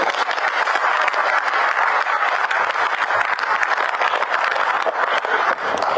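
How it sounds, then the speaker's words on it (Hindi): Loud, sustained applause from party workers at a state organizational workshop, thick continuous clapping filling the room for six seconds without talk. "अपने लिए तो ताली बजा दे"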